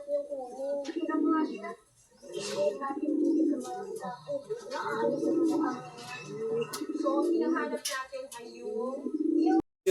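Hungry pigeons coo in a loft, a close chorus of repeated, rhythmic throaty coos broken by brief pauses.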